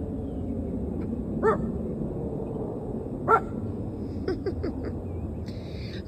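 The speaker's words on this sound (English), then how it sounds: "Little doggy barks are so cute." Small pet dogs give a few short, separate barks at a moderate distance over a quiet indoor background, with a couple of quicker yips near the end.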